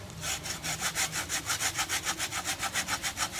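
A small hand saw about 30 cm long cuts through a coconut palm trunk in quick, even back-and-forth strokes, about six per second, close and steady with no voices.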